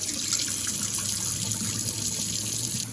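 Water sloshing and running as rice is rinsed by hand in a bowl, a steady close wash that continues without a break, with no voices.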